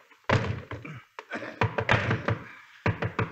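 Pounding on a door as a sound effect in a 1950 old-time radio western drama: heavy, close thuds in irregular bursts, several blows grouped together with brief pauses between.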